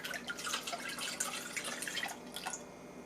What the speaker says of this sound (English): Pour the mixture back into your measuring cup